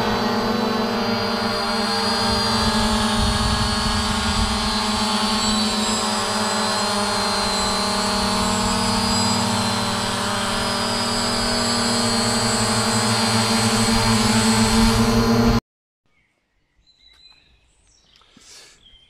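A drone's propellers whine in a steady, loud drone during a float test, the tone holding for about fifteen seconds before cutting off abruptly, leaving faint handling noises.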